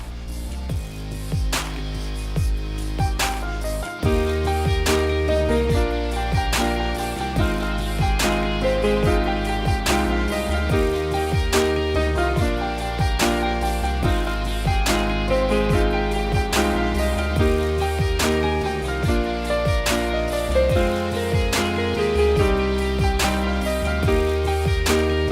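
A solo piano plays the advanced-level chorus of a song, with steady rhythmic chords under a melody. The playing continues clearly and evenly throughout.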